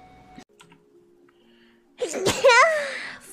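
A single loud, close human sneeze bursts out after a quiet stretch of faint background sound, with a sharp intake and then a trailing, wavering voiced tail.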